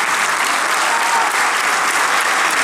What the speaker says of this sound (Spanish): El aplauso de ustedes para este dúo de hermanos.